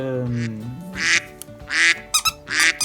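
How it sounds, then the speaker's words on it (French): A squeaky turtle-shaped dog toy quacks several times in short bursts, close by, following a brief voice at the start. "cette petite tortue qui fait coin-coin"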